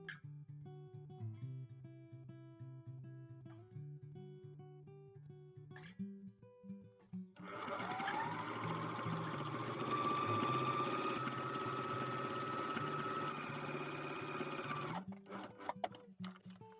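A domestic sewing machine stitching a costume piece, its steady whirring motor and fast needle chatter running continuously for several seconds before stopping, heard close up after a quieter stretch of background tones.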